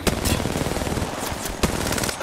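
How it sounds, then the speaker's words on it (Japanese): Rapid automatic gunfire rattles in the Apex Legends video game, with dense bursts of close shots and sharp cracks running continuously for a couple of seconds. "撃たれてる。"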